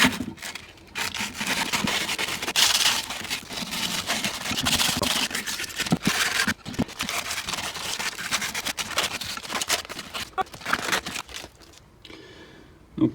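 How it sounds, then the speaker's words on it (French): Sanding an engine's gasket mating surface after cleaning: a continuous, fairly loud abrasive rubbing that keeps going almost without pause, then fades out near the end. "Et maintenant, je ponce mon plan de joint."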